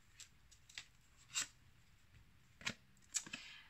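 Oracle cards are cut and handled in a quiet room, giving a few brief, sharp papery snaps and slides spread irregularly over a few seconds, fairly close.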